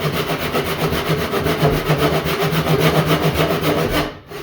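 A hand saw cuts through a clamped wooden leg of a round kitchen table in steady, rhythmic back-and-forth strokes, loud and close, with rasping wood friction and no voices.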